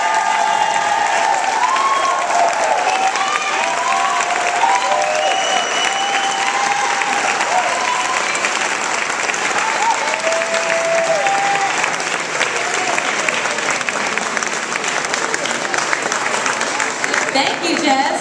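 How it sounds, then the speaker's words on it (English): Sustained audience applause fills the room after a Pecha Kucha talk at a museum of art, a dense, steady clapping that holds at full strength throughout with faint cheers mixed in. "Let's give her a round of applause"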